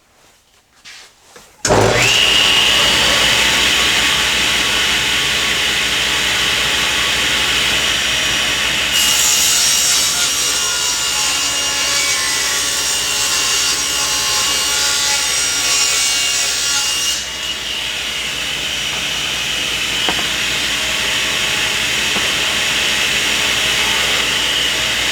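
Table saw ripping a 9-inch-wide strip of plywood against the rip fence: a loud, steady whine and rasp that starts abruptly and holds for the whole stretch, shifting slightly in tone partway through the cut.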